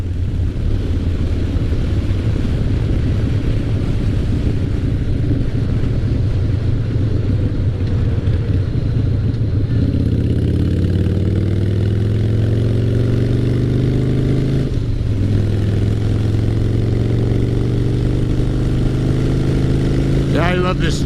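A 2003 Harley-Davidson Fat Boy motorcycle engine rumbles loud and close while being ridden on an open road. Its deep drone rises through gears in long accelerating sweeps, drops briefly at a shift and climbs again, with a rider's voice faintly under it.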